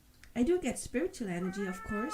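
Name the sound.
cat meowing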